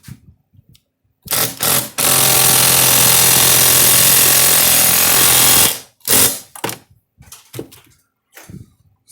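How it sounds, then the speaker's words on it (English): A power drill drives a screw into a solar panel mount, giving a few short bursts and then one long steady whine lasting several seconds, followed by more brief spurts. "This corner, I'm going to put a screw right there."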